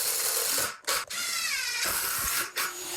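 A countersunk screw driven into a wooden platform bed frame makes a steady, close whirring drone in a few runs, broken by brief stops.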